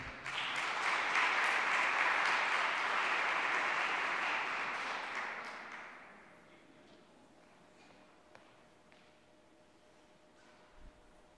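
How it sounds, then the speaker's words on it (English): Retreat audience giving a warm round of applause for Susan, a full, loud burst of clapping for about six seconds that fades out into a quiet room with a few small knocks. "So give her a round of applause as she comes up to the microphone."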